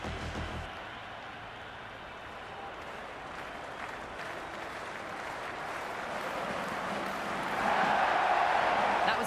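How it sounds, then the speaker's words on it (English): A large stadium crowd at a Sydney Sixers versus Guyana Amazon Warriors cricket match roars and applauds continuously from a distance, swelling louder toward the end. "The crowd is electric right now."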